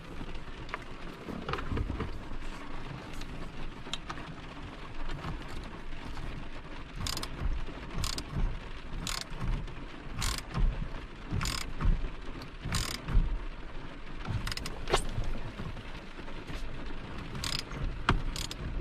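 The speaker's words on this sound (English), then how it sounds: "once we start driving this in, it's going to start pulling the steering wheel out" A ratchet turns a 14 mm puller bolt to draw the steering wheel off a 2010 Toyota Prius, giving close, evenly spaced clicks in a steady rhythm over a low mechanical rumble.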